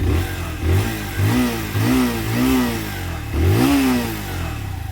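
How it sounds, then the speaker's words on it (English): Close-up blips of a 2019 Lexmoto Assault motorcycle engine, several short throttle revs rising and falling over a running idle, loud and without voices. "I'll let you guys listen to how the bike sounds if you want to hear."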